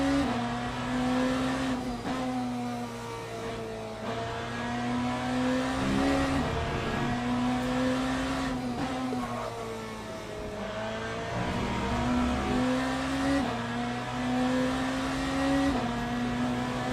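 Race car engine in Le Mans Ultimate at Monza, a steady loud drone with shifting pitch as the car accelerates and lifts, rising and falling through gear changes across the lap, with no talk over it.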